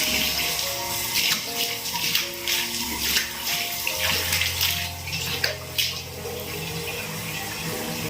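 A tap runs steadily and loudly during face washing in a home bathroom, a continuous close splash and rush with no talking over it.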